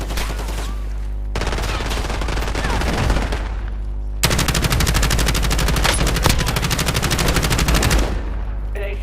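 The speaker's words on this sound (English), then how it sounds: "Taking effective fire." Video game gunfire: sustained bursts of automatic weapon fire, loud and close, with rapid overlapping shots and a brief lull before a second, heavier barrage over a constant low hum.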